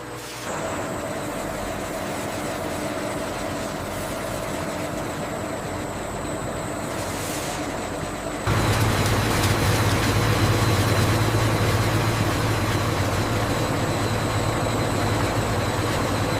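An industrial centrifuge spins solids out of tamarind juice with a steady, loud machine drone and hiss; partway through, the sound shifts to a heavier, louder hum with a deeper rumble.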